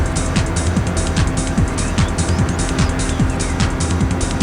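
Onboard engine roar of a small Jeep race car drafting in a slipstream toward Curva Grande, loud and steady with repeated rising gear-sweep tones and tire squeal, close and continuous throughout.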